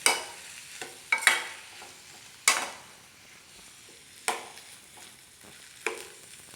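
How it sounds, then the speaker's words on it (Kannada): Tomatoes and coriander leaves frying in a pan while being stirred: a quiet background sizzle broken by about six sharp scraping knocks of a spoon against the pan, spaced irregularly and close. "ಇದನ್ನು ಚೆನ್ನಾಗಿ ಫ್ರೈ ಮಾಡ್ಕೊಳ್ಳಿ"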